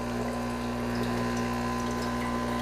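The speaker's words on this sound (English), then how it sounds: "Now you can see the boiler is pushing the water through the group head" A Breville Barista Pro espresso machine pushes water through its group head, giving a steady loud pump drone with a sustained hum and watery gurgle underneath, unbroken throughout.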